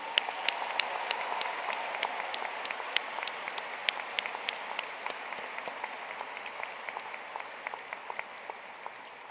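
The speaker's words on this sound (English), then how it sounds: "please join me in a huge, enthusiastic round of applause for our University of Pittsburgh class of 2029" Steady applause fills a university convocation hall as the incoming class of 2029 is welcomed, a broad continuous wash of many hands clapping, moderately distant, with a few sharper individual claps standing out above the crowd.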